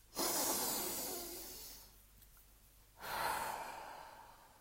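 Two slow, deep breaths, each a long airy exhale lasting over a second, separated by a quiet pause, close and alone with no talking.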